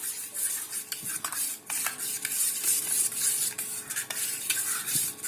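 A spoon stirs curd with black salt, roasted cumin powder, chilli slices and green coriander, making a continuous wet swishing hiss broken by repeated light clicks and taps against the bowl, close and alone.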